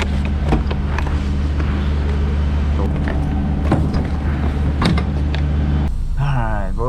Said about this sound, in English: Now I gotta go open my doors.